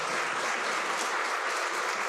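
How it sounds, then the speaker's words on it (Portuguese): A church congregation claps together in praise, a dense, even wash of applause that holds steady throughout with no voices over it. "Você pode aplaudir o Senhor"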